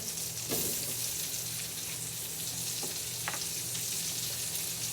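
Potatoes frying in bacon fat in a pan, a steady dense sizzle and crackle with a couple of soft utensil knocks near the start.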